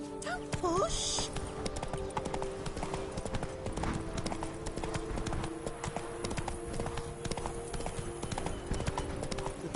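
Roach, Geralt's horse in the video game Witcher 3, trots with steady clip-clopping hooves through the whole stretch, a brief whinny near the start, with game music and a voice talking over it.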